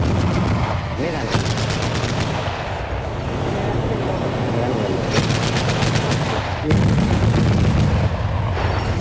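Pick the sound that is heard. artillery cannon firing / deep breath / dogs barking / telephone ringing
artillery cannon firing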